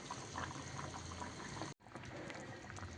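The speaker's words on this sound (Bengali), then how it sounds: "আলু সেদ্ধ হয়ে গেছে, আর একটু ফুটুক" Potato curry bubbles steadily in a pot on a gas stove, a dense, continuous simmering boil that cuts out briefly and then resumes just as strongly.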